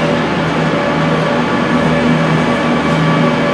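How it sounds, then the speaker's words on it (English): Virgin Super Voyager train 221105, bound for Edinburgh, passing near Birmingham: a steady, loud rolling rumble with a droning engine hum that holds unbroken throughout. "Here comes the Virgin Train Service, Virgin Super Voyager Service."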